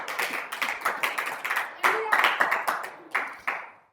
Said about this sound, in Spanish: Dele aplauso al Señor.